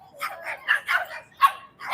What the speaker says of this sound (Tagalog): kinakahulan nila tong magandang aso.